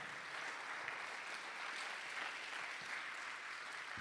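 Church congregation applauding during a Spanish-language sermon, a steady wash of many hands clapping at moderate volume across the whole span, slightly distant and roomy.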